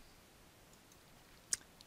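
A single faint computer mouse click in a quiet room, one short tick against low background hiss.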